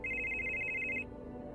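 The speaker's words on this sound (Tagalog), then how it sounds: "nagising po ako sa malakas na pagre-ring ng cellphone ko" A cellphone rings loudly with a steady electronic trill for about a second, then cuts off, leaving faint room noise.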